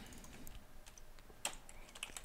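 Faint, quick keystrokes tap on a computer keyboard in an irregular run, with a few sharper clicks standing out, recorded close in a quiet room with no speech.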